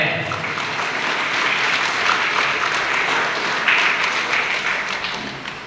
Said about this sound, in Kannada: ನಿಮ್ಮದೊಂದು ಜೋರಾದ ಚಪ್ಪಾಳೆಯನ್ನು ಹೊಡೆದರೆ